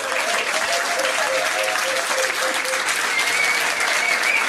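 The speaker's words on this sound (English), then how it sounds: "Give them a round of applause." Patrons at a pub trivia quiz night give a round of applause, a dense, even wash of clapping that stays loud and steady from start to finish.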